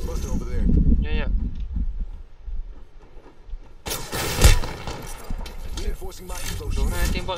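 Gunfire in a video game played on a live stream, with a loud burst of shots midway through the clip amid steady game noise while players talk over it.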